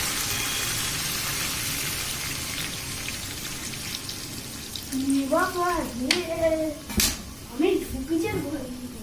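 Water is poured into a pot of chicken curry with a steady rushing splash for several seconds, after which a voice talks over the quieter simmering pan.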